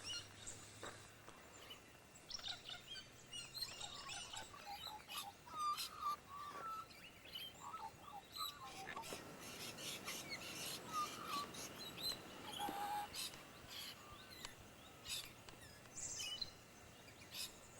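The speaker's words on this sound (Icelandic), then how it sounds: "Og það vantar ekki lætin í fuglana hérna." Birds chirping and calling outside a house near Portland, Australia, faint and somewhat distant, with scattered tweets and short calls over quiet outdoor ambience.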